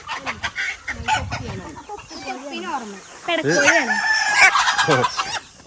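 Hens cluck and a rooster crows on a small chicken farm kept by children, the crow rising loud near the end while people talk throughout.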